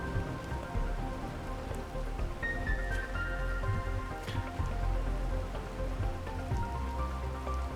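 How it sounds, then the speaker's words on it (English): Rain falling in the survival game Planet Crafter, a steady dense patter and hiss of drops on surfaces, continuous and moderately loud throughout, with a few faint tonal game sounds and no talking. "Look at the rain."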